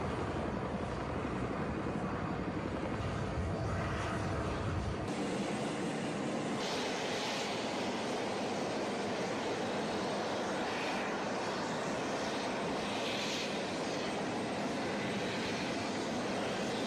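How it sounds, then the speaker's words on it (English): Several helicopters flying as part of Donald Trump's departure from the G7 summit in Canada, a broad continuous rotor and engine roar that shifts abruptly after about five seconds and carries on steadily without talk. "Check out all of these helicopters."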